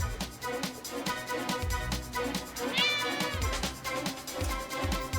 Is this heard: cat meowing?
yes